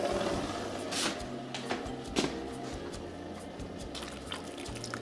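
Water pours from a mug with a rounded lip into a cup of Cup Noodles, a steady close trickle and splash with small drips throughout.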